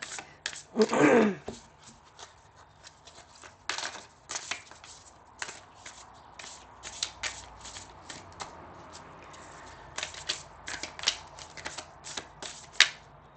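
Oracle cards being shuffled by hand: a loud riffle at the start, then a long run of soft, rapid card flicks and slides at close range, with no talking.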